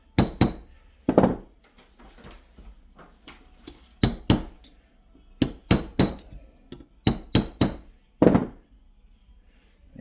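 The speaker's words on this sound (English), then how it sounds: "I'm going to gently tap this bearing from the outside." A power steering pump bearing for a C5 Corvette LS6 is gently tapped into place from the outside, producing a series of sharp metallic taps, often in quick pairs or triplets, separated by short quiet gaps, with no talking.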